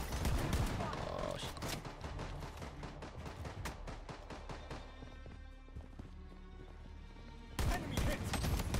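Rapid bursts of gunfire crack nearly nonstop in a free-to-play Call of Duty-style shooter, loud and dense with sharp repeated shots, easing briefly before another heavy burst at the end.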